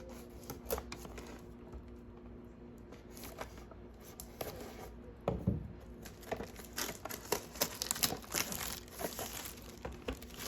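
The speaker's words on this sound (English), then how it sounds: "All right, we got the plastic removed." Plastic packaging crinkling and rustling as a Blink Mini 1080p camera is unboxed, close and irregular handling noises with sharper crackles building toward the end.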